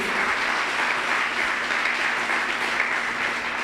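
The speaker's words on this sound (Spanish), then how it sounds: "El que lo crea, dele un aplauso fuerte a Jesús" A church congregation applauds at a service, a steady dense wash of clapping from many hands that holds evenly from start to finish with no voices over it.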